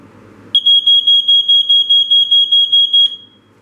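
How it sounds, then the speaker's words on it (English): A Wake 'N Warn smoke alarm sounds a rapid, loud, close series of about a dozen evenly spaced shrill beeps during a test, then abruptly stops. "let's go ahead and give this thing a test"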